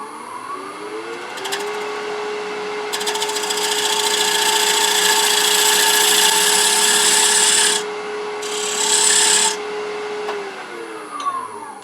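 Wood lathe humming steadily while a small turning tool cuts a dovetail into a wooden table lamp blank, with loud rough scraping bursts of cutting over the motor whine, no talking.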